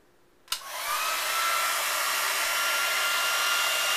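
A hair dryer with a Deva curl diffuser attachment clicks on and settles into a steady, close, airy whoosh on its low setting.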